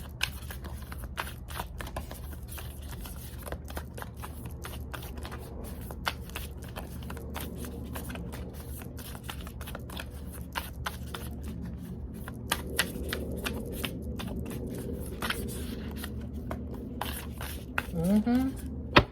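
Tarot cards being shuffled during a spiritual card reading, a steady soft riffling and sliding that runs throughout at low level, with a voice speaking quietly over it.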